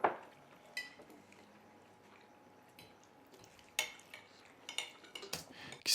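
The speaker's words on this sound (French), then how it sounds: "C'est ni plus ni moins qu'un son de mouvement de vaisselle, de mouvement, une activité humaine en train de dîner" Dinner-table clatter: scattered clinks of dishes and cutlery against plates, soft and intermittent over a quiet room, with a few sharper knocks near the end.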